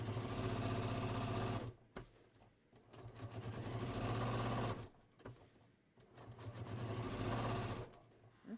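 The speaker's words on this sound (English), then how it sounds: "All right, so understitching about 1/8 of an inch away." A sewing machine understitching a pants pocket bag about an eighth of an inch from the seam, a close, steady mechanical whirring in three bursts separated by brief quieter pauses, with no talking.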